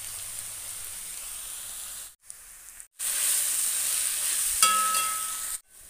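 Ginger, garlic and green chili paste frying in a pan, a hissing sizzle that cuts out briefly twice, then returns louder with a short metallic clink near the end; no talk.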